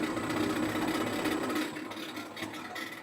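A machine for making goat feed pellets runs with a steady mechanical whir and hum, fairly close, easing slightly partway through, with no voices.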